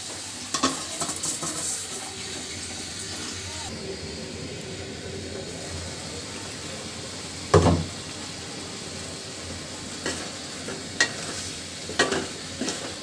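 Bottle gourd and large fish curry simmering in a pot, a continuous low sizzle and bubbling with a clattering knock of the lid or utensil midway and a few light taps later.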